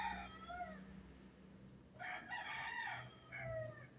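Free-range local chickens on a poultry farm, with hens clucking and a rooster crowing in several drawn-out calls at moderate distance, no talk over them.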